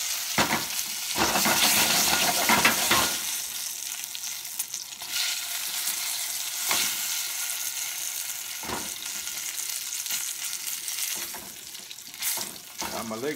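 Chicken legs and thighs sear in a pan for coq au vin with a loud, broad sizzle that swells and settles, broken by occasional sharp clatters of tongs or utensils nearby.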